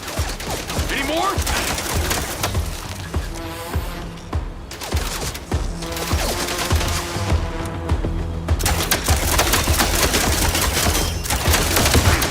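Sustained gunfire from a MINDSEYE battle, volleys of shots rattling almost nonstop over a dense, loud mix of game effects and music across the whole stretch.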